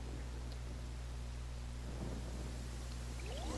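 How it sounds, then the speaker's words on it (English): Steady rain falls in a Genshin Impact game scene, a dense unbroken wash of noise with a low rumbling undertone, constant and fairly loud throughout, with no voices. "I love how it was raining during all that."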